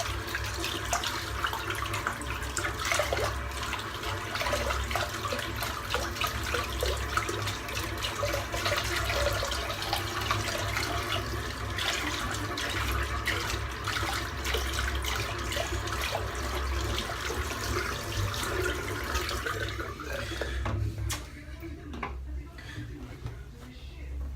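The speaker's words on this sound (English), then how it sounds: "I'm just giving my cup of soap just a quick rinse." Running water from a tap splashes steadily over a shaving soap cup as it is rinsed, a continuous close rush that cuts off near the end.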